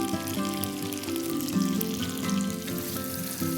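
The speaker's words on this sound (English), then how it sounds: "So I'm going to melt the butter and fry some sage leaves." Sage leaves fry in melted butter in a pan for a gnocchi dish, giving a continuous crackling sizzle with a steady bubbling hum, close and fairly loud, with no voices.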